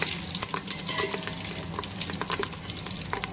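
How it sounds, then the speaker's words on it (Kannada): Curry leaves sizzle and crackle in hot oil in a pan, a loud, continuous frying hiss with sharp pops throughout, alongside the scrape of stirring. "ಅದಾದಮೇಲೆ ಕರಿಬೇವಿನ ಸೊಪ್ಪನ್ನು ಹಾಕ್ತಾ ಇದ್ದೀನಿ"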